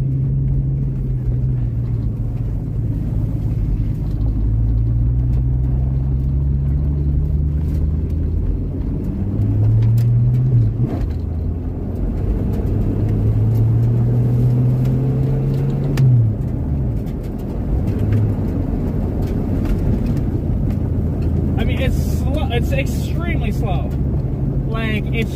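An old manual Ford Capri, the cheapest in North America, running and driving after sitting, its engine rumbling loudly with rising and falling revs as it shifts through gears, someone talking over it.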